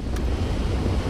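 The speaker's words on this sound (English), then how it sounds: "Like these V2 rockets that are constantly revving up for no reason." V2 rockets rev up in The Saboteur, giving a steady, heavy low roar with a breathy rushing edge. The sound is brief and continuous and stays close and loud throughout.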